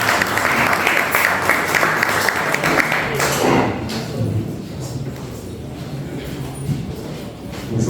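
An audience applauds at a tenth-anniversary commemoration, dense clapping for about three seconds that then thins into a lighter, scattered patter.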